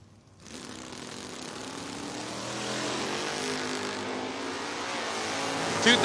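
Drag race cars at a door-wars bracket event roar off the line, the engine noise swelling steadily as they pull away down the strip, loud and sustained with no talk over it.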